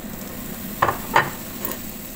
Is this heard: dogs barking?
no